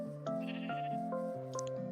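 A sheep in a survival video game bleats in a long, wavering, repeated cry, clear and close with no talk over it.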